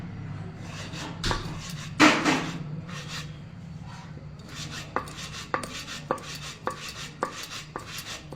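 Rice dough for chushi payesh cut into small pieces with a knife on a board, a series of close, sharp chopping taps at an irregular then steadier rhythm, with faint kitchen noise and no talk.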